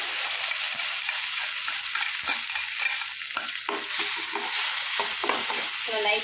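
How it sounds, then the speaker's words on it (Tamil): Ground coriander paste fries in a hot pan, a constant loud sizzle with scraping stir strokes and occasional spatula knocks, no talk over it. "இப்போ நம்ம அரைச்சி வச்ச கொத்தமல்லியை போட்டு தாளிக்க வேண்டியது."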